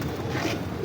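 Big breeder flying pigeons from a loft, cooing softly and continuously close by, a low steady murmur with no talk over it.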